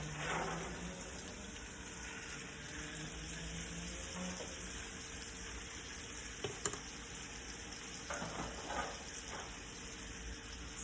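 Ribeye steak frying in flavored butter in a pan, a quiet steady sizzle and crackle with a few brief louder pops and stirring sounds, heard alone.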